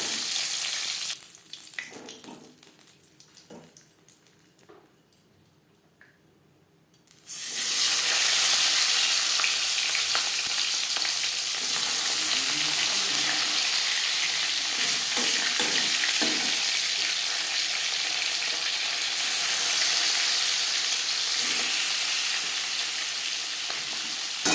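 Rohu fish pieces frying in hot oil in a kadai, a quieter stretch giving way to a loud, steady broadband sizzle that holds for most of the time, with some stirring and clatter mixed in.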